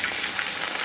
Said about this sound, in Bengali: এক পিঠ ভাজা হয়ে গেছে, উল্টে দিচ্ছি আর এক পিঠ ভেজে নেওয়ার জন্য